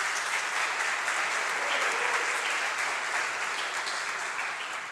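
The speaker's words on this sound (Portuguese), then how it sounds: "Você pode dar palmas para o Senhor Jesus aí?" A church congregation claps steadily for several seconds, dense even applause filling the room at a moderate, constant level with no talk over it.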